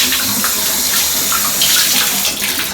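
Water streams and splashes steadily as rinsed shirts are wrung out by hand over a tub or sink, a continuous close watery rush with no speech.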